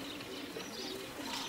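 Racing pigeons coo steadily in a loft, a soft low murmuring with overlapping calls and faint higher chirps, continuous and fairly quiet throughout.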